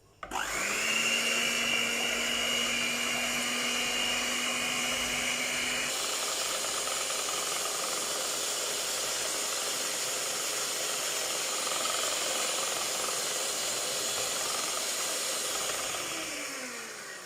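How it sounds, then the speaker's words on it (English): Electric mixer beating four eggs for a vanilla sponge cake: a steady, loud motor whine that runs unbroken for the whole stretch and drops to a lower pitch partway through before tapering at the end. "there are my 4 eggs, and I'm going to start by beating this"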